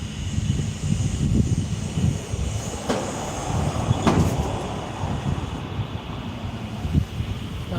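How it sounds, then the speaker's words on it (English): Cars pass by on a nearby road outside a pop-up shop, a continuous rushing traffic roar with a few brief louder swells as individual vehicles go past. "I know y'all hear all these cars coming by"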